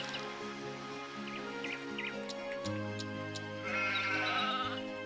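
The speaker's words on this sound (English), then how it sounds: "I'm gonna need to move the sheep" Sheep bleat repeatedly inside the video game Anno 1602, short wavering cries over a steady layer of game music and ambient tones, moderately loud and close.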